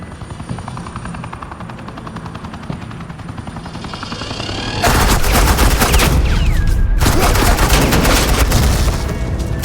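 Suppressing gunfire in Batman: The Enemy Within erupts as loud, dense, rapid automatic bursts after a quieter, whirring stretch. Two long sustained volleys are split by a brief gap.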